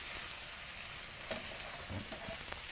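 Hamburgers frying on a stove, a steady soft sizzle with faint crackles and a few brief clatters, fairly quiet and with no voices.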